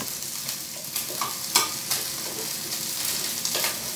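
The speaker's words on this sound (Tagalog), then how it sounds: "mag-pan-fry din tayo ng dried alamang" Dried alamang shrimp pan-frying in oil for an egg tofu stew, giving a continuous close sizzle with several short scraping stirs and clinks spread through it, and no voices.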